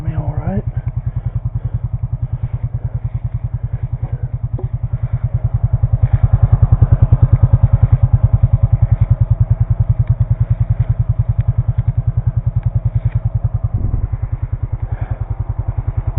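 A four-wheeler ATV pulling logs runs close by with a loud, steady chugging engine that revs up briefly in the middle before settling back to a rhythmic labouring idle.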